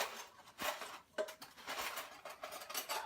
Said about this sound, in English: Getting a spoon.